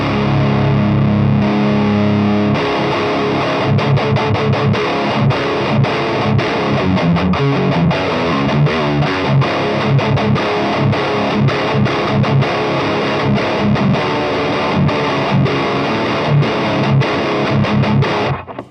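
Heavily distorted electric guitar riffing through an overdrive pedal into a Revv Generator 7-40 metal amp, with tight, chugging palm-muted rhythms and sharp stops, loud and continuous throughout with no voices.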